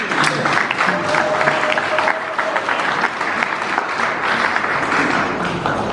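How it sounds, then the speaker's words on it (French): An audience at an environment event in the DRC breaks into sustained applause, a thick, continuous roar of many hands clapping that runs unbroken for several seconds. "elle mérite vraiment des applaudissements. Applaudissements"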